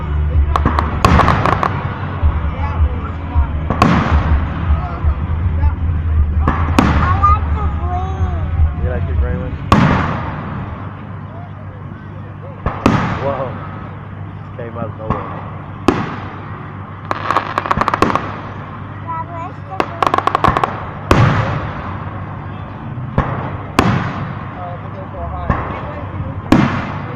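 Large fireworks exploding in a night show, a series of about ten loud booming bursts with crackling tails arriving every few seconds, with voices talking and reacting between blasts.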